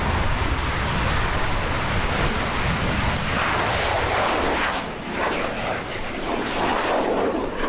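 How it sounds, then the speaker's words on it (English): A Royal Canadian Air Force CF-18 jet taking off for an airshow solo demonstration, its engines producing a loud, sustained roar that swells and shifts in pitch as it climbs away, with no voices. "It's the Royal Canadian Air Force CF-18 solo demonstration, taking off to join Red Knight for a heritage flight."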